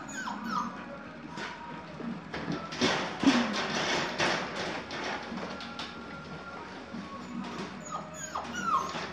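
Australian Shepherd puppies almost six weeks old whimper and yip near by in a doghouse, with scattered soft cries, small thumps and taps rising and falling over several seconds.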